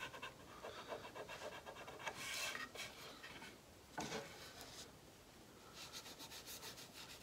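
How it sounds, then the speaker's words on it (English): Sawdust is rubbed across elm wood to wipe up squeezed-out glue while a console table is assembled. Quiet, close, continuous scrubbing comes in uneven back-and-forth bursts, with no talking. "I'm using sawdust just to kind of clean up the glue."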